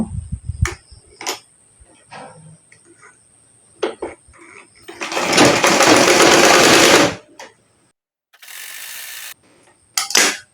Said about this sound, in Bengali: ডাবল সেলাই দিয়ে নিব। অবশ্যই 2টা সেলাই দেবেন।